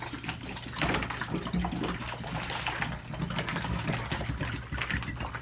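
Water tinted with food colouring is shaken hard inside a bottle, producing a continuous, fairly loud sloshing and churning roar that runs steadily throughout with no talking.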